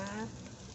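Pork sizzling and frying in hot oil in a pan for a Thai spicy grilled pork dish, a brief steady crackle heard close up.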